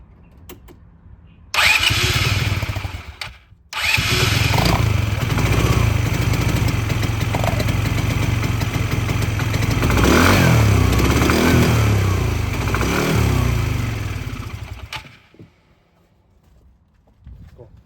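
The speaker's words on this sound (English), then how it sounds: "I'm gonna crank it over now, see what happens." A 2010 Polaris Ranger RZR 170 with a freshly replaced fuel filter cranks briefly, stops, then fires up and runs loud and close with a rough, uneven idle for about eleven seconds before shutting off.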